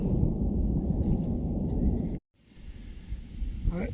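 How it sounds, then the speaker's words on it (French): Thunder from a storm at Saint-Léon in the Allier countryside rumbles low and heavily for about two seconds, then cuts out before a softer, rainy background returns. "l'orage commence à gronder"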